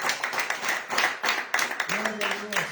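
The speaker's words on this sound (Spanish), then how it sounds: "Denle un aplauso al Señor, mis amados hermanos." Church congregation clapping in steady rhythmic claps, fairly near, with a voice speaking over it toward the end.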